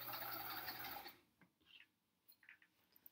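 A sewing machine stitches quilt block seams for an hourglass quilt, running steadily and close for about a second before stopping, after which only faint clicks and handling sounds follow.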